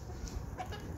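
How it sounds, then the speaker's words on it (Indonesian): A chicken gives a single brief cluck nearby, short and moderately loud over faint outdoor background noise. "Nah, ini ayam yang suka mengganggu, guys."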